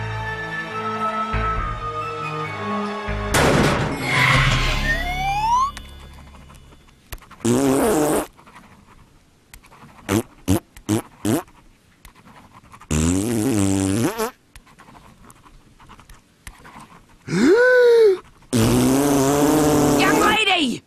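Cartoon fart sound effects from a ghost duck in The Grim Adventures of Billy and Mandy come as several loud, wobbling, pitch-bending bursts separated by pauses, with voices at the start.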